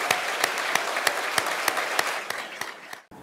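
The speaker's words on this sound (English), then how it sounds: "let's have another round of applause for our new candidates" A crowd applauds new candidates at a 2017 Quincy ceremony, steady dense clapping with sharper individual claps standing out, fading and cutting off near the end.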